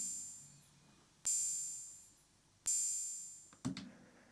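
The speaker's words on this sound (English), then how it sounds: "The open hat is this." Synthesized open hi-hats from a Wonky Stuff module in an AE Modular patch: two bright, sizzling hits with long decaying tails, then a shorter closing tick, clear and alone.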